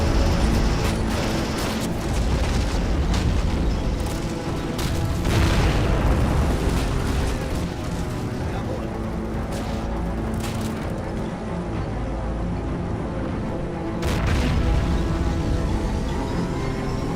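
Repeated heavy booming blasts from anti-personnel grenades in the tank combat game Draft Wars, rolling continuously with louder bursts near the start, middle and end, dense and loud with no voice over them.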